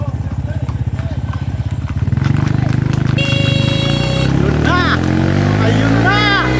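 Horses racing at a village horse race in Laguna, a black horse against a red one, hooves galloping in a fast, steady, loud clip-clop rhythm under excited shouting and cheering from a crowd.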